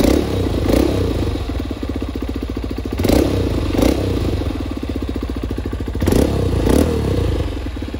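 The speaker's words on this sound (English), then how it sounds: "Ito yung bago natin upgrade ng pipe sa full exhaust." A Honda CRF150L dirt bike with a newly fitted full aftermarket exhaust idles with a loud, close, steady putter, blipped into short revving bursts every few seconds; no talk.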